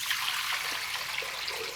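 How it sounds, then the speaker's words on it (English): Cool water pours into a mixing bowl for ciabatta dough, a brief steady splashing trickle heard close and alone. "The first thing I'll do is put my water into the bowl."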